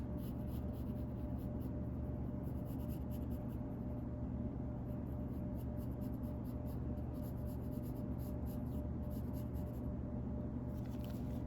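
A pencil scratching steadily across paper while a bird's leg is drawn, continuous fine strokes, close but soft over a constant low hum.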